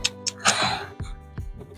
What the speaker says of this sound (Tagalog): Inuubo pa rin